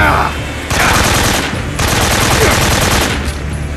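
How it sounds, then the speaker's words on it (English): Sustained automatic gunfire during a Metal Gear Solid 3 boss fight, two loud bursts of rapid shots separated by a short lull, with a voice faintly underneath. "it's basically just a shooting fight"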